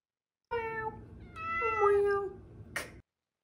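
A cat gives two clear, close meows, the second longer and rising, followed by a brief breathy sound, with no talk.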